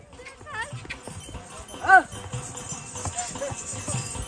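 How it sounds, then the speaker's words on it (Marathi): Horses walking along a mountain path on the way to a cave shrine, their hooves clip-clopping in a steady rhythm close by, with people talking over the hoofbeats. "पाय दुखतात म्हणून सगळी घोड्यावर"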